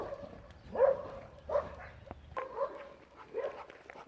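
A dog barks in short separate bursts, about four or five yaps and woofs spread over a few seconds, close by, with whimpery tones between them and no talking.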